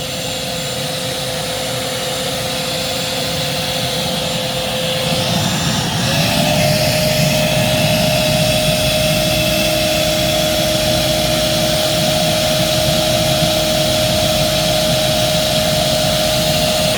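A Euro Pro EP601 vacuum cleaner runs during an airflow test, giving a loud, steady motor roar with a constant whine that shifts pitch slightly about a third of the way in and then holds.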